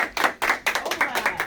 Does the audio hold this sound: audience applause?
yes